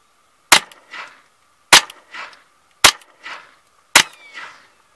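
Four sharp gunshots from a Mossberg 702 Plinkster .22 LR rifle firing Norma Tac-22 and CI ammo, evenly spaced about a second apart, each a loud crack followed by a brief echo off the surroundings.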